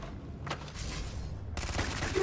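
Bursts of rapid gunfire from a firefight in the Starfield video game, a dense rattling fusillade that swells partway through, loud and continuous over game background noise.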